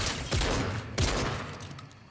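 Gunfire in Fortnite Zero Build, Chapter 3 Season 3: two sharp, loud shots about two-thirds of a second apart, each cutting through a busy game soundscape and followed by a decaying tail.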